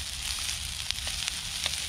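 Food searing in a pan over an outdoor gas burner while cooking Vorarlberger Riebel, a continuous close sizzle with a few small pops and crackles and no talking.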